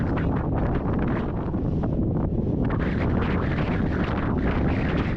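Strong wind buffets the microphone on an open Northumberland hilltop, a loud, continuous roar with gusty surges that stays steady for several seconds, with no voices.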